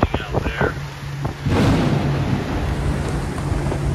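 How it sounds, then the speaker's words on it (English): A thunderstorm surrounds a boat on an Intracoastal Waterway trip: steady wind roar and rushing noise swell up midway, with a low rumble running underneath, sounding loud and close throughout the clip. "We've got quite the storm now we're driving into."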